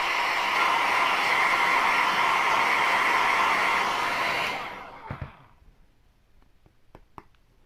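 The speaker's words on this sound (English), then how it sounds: "I'm going to use my blow dryer just so I can help this along and dry a little bit quicker" A blow dryer drying paint on cardstock for a Halloween trick-or-treat bag runs as a loud, steady whoosh for several seconds, then switches off, leaving a few faint clicks and handling knocks in a quiet room.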